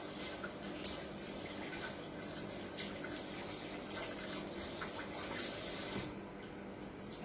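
Tap water runs steadily into a sink while hands are washed, a soft continuous splashing hiss with faint drips, fairly quiet and close.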